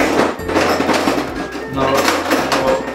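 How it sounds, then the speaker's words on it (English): A fork stirs Norwegian pancake batter, giving a steady run of light clinks and scrapes against the bowl while people talk over it. "When I do this, I stir it. Yeah. With a fork."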